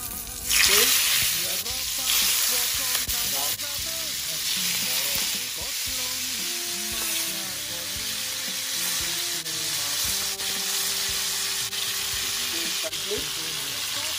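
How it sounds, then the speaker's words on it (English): Steady sizzling and crackling of stuffed squid frying in hot oil over a low flame, close by, with occasional stirring scrapes and no talking. "The squid in the frying pan. Cook on the slow fire."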